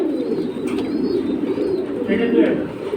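Silver high-flying pigeons at a sale make a steady low cooing and murmuring close by. Someone talks over the birds throughout.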